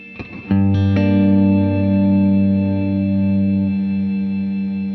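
A distorted electric guitar strikes a chord, then a second one rings out and sustains, humming with reverb and rich harmonics as it slowly fades.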